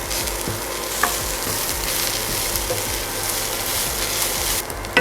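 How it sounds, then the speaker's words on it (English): Scraped coconut roasting in a pan with spices for mutton curry gives a steady, dense sizzle throughout, broken by a few soft clicks of stirring close by. "I'll roast this further until the coconut is a nice golden brown"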